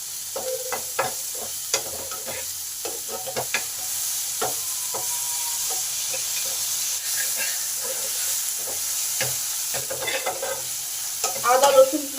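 Ginger, garlic, onion and tomato with a pinch of salt fry in oil in a pan, a steady sizzle broken by repeated stirring scrapes and clacks. The sounds are close and moderately loud, with no speech.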